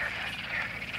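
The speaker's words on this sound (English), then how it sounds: "Hello, frogs." Frogs croaking in a dense chorus, a continuous buzzing trill of many overlapping calls, close and steady over the whole second.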